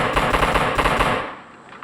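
Rapid automatic gunfire from PUBG Mobile: a loud, close burst of about a dozen quick shots in even rhythm, ending abruptly and leaving a short fading tail.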